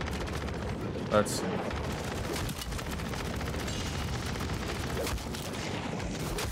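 HRM9 SMG fire in MW3 Zombies rattles in dense, continuous bursts amid chaotic combat noise, with one sharp louder blast early and someone speaking briefly over it.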